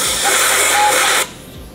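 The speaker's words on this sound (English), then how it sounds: "I'm just gonna take some compressed air," A burst of compressed air blows filing shavings out of a diesel engine cylinder head, a loud steady hiss lasting about a second before cutting off abruptly.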